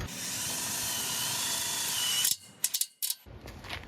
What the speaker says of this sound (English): put a screw through this side